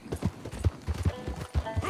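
Horse hooves clip-clop at a quick, uneven trot in Red Dead Redemption 2, close and distinct, with a brief whinny-like tone over the hoofbeats.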